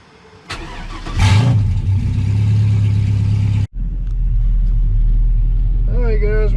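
Chevrolet C10 pickup truck engine cranking and catching, then settling into a loud, steady low rumble, briefly cutting out and restarting; faint speech-like tones rise near the end.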